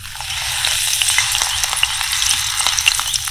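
A curry leaf fries in hot oil as a garnish for cauliflower 65, crackling with a loud, bright, continuous sizzle and scattered sharp pops, up close and without speech.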